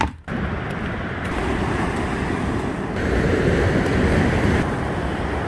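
Sea waves wash against a coastal road, a steady broad roar of surf mixed with wind buffeting the microphone, close and loud, with the surge swelling a little toward the middle.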